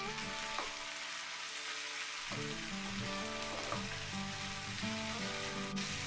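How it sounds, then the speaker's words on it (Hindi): Onions frying in a pan for masala rice, a steady close sizzle with soft stirring and scraping noises running through, no voices. "और अब हम इन्हें थोड़ा सा पका लेंगे जब तक ये जो प्याज है इनका कलर थोड़ा सा चेंज नहीं हो जाता"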